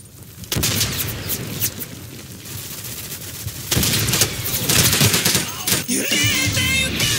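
Dense battlefield gunfire in the World War II shooter Day of Infamy, rapid machine-gun bursts and heavier booms overlapping in a loud, continuous fusillade.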